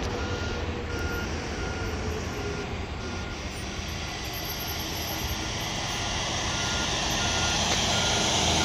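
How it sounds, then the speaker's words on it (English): A heavy Conrail rail maintenance bucket truck engine rumbles steadily nearby at Westfield, New Jersey, with a faint repeating reversing beep running through the constant low drone. "It is a Conrail"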